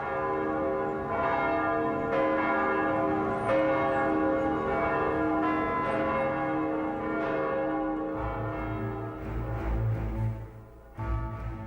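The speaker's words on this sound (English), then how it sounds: "Every bell in Moscow's hundreds of churches rang out for the latest and last of the Romanov Czars." Church bells across Moscow ring for the Tsar's coronation, several bells pealing in overlapping, resonant strokes with a full sustained ring, joined near the end by a deep low rumble.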